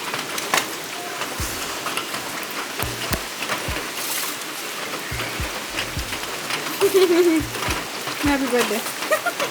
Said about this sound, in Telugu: హైలైట్ ఏంటంటే సైమల్టేనియస్గా వర్షం కూడా పడుతుంది